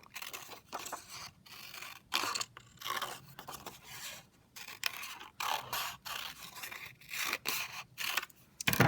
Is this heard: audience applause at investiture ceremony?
no